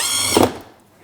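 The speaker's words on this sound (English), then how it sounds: "So then you just go around and install these screws." A power drill drives a screw into a pad washer bucket spray guard: a brief high whirring spin that ends in a short squeal and then cuts out.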